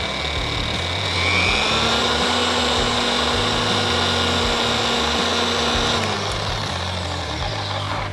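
A boat-detailing polisher spins a wool pad dry in the air with a loud, steady motor whine and hum, close and continuous, its pitch rising slightly as the speed is turned up, then settling.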